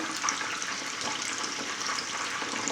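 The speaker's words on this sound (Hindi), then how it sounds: "कबाबों को हिला के चारों तरफ से पकाएंगे इस तरह से।" Chicken gola kebabs frying in a pan while being turned, a constant bright sizzle of oil with faint scraping and crackles, close and unbroken by voices.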